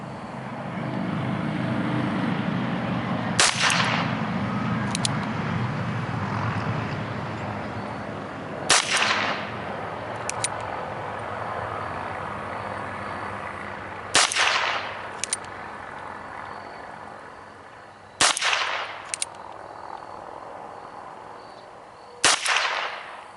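A .22 Ruger Wrangler revolver fires five sharp, loud cracks spaced roughly five seconds apart outdoors, each shot followed by a short echo and fainter knocks while a low rumble hums in the background.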